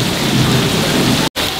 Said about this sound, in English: they have this big rain coming down, which is very nice.